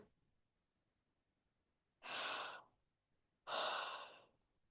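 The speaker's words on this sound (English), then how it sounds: "yawning is usually one of the first ways that we notice the energy is relaxing down" A person yawns during a quiet tapping meditation, giving two long, breathy exhalations a second or so apart, close and soft, with no speech.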